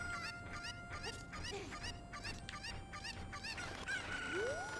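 A cucco chicken from Zelda: Ocarina of Time squawks in repeated honking clucks, quick and fairly loud, with a rising squeal near the end over game music.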